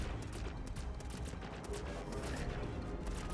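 Naval gunfire in the World of Warships Legends video game: a dense, continuous barrage of booming shots and rumbling blasts, loud and close, running without pause for the whole stretch.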